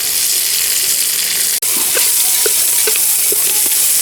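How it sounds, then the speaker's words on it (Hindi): Chopped green chilies and capsicum sizzle loudly in a hot pan, with a constant frying hiss broken by a brief dropout and several soft stirring clinks, no talk. "इन सभी चीज़ों को हम 2 से 3 मिनट तक अच्छे से भून लेंगे।"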